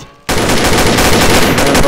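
Rapid, loud gunfire in a shooter video game bursts in after a brief quiet moment and continues as a dense, unbroken automatic stream close by.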